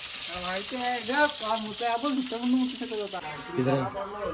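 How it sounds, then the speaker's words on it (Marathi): Steady sizzling hiss of chicken frying on a griddle, continuous throughout, with muffled voices murmuring underneath. "तव्यावर फ्राय कराय, कौल फ्राय कराय"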